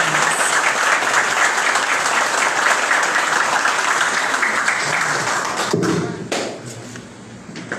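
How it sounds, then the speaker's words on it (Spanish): Sustained applause from an assembled audience greets the new interim director general of CORAAMOCA at his swearing-in ceremony, steady and full for about six seconds before thinning into a few scattered claps and thuds. "Vamos a recibir con un aplauso al licenciado."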